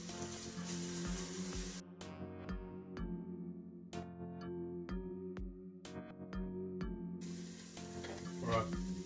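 Leeks for potato and leek soup sizzle and fry in a pan while being stirred, a continuous crackling hiss with repeated scraping strokes and clinks of the utensil against the pan.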